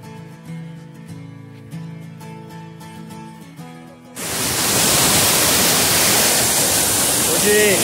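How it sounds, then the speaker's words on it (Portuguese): Waterfall on a forest trail near Bairro da Ponte, its dense steady rush of water starting abruptly midway and continuing loud and unbroken; before it, music-like tonal sounds play. "essa cachoeira aqui, cachoeira, pode ser a cachoeira da sombra"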